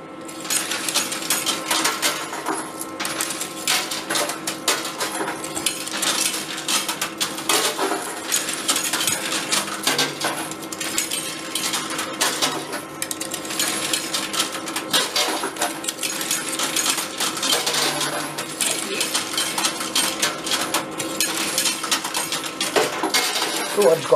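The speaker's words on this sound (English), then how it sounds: "This is catching all these bloody coins." Coins clatter and drop continuously inside a coin pusher arcade machine, a dense metallic jangle of many small impacts with busy arcade noise, while people talk nearby.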